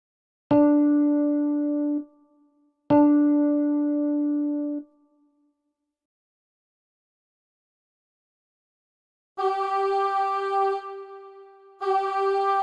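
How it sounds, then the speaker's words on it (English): Two pairs of musical notes, each pair repeating one pitch: first two lower plucked tones that ring and decay, then two higher sustained tones, with silence between pairs. "Notes with the same pitch sound like this."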